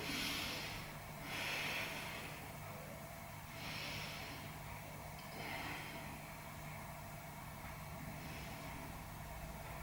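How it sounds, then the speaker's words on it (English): Slow, deep belly breaths during a yoga stretch, soft airy inhales and exhales repeating roughly every two seconds over a quiet background hum. "Let's take a few breaths down into our belly"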